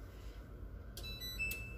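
Oven chiming when preheated in a home kitchen, two short electronic beeps about half a second apart sounding over a quiet background hum.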